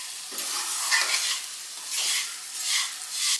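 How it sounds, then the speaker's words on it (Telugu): Rava (semolina) is stirred and dry-fried in a pan over low heat, producing soft, repeated swishing and scraping strokes over a faint hiss, with no voices. "రవ్వని ఇలా కలుపుకుంటూ సిమ్లోనే ఒక 5 నిమిషాలు రవ్వను బాగా ఫ్రై చేసుకుందాం"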